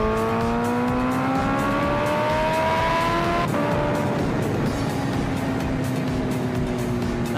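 High-revving motorcycle engine pulling hard at half throttle on cold tires, loud and close, pitch sweeping upward through the gears with a brief shift break midway, continuous throughout.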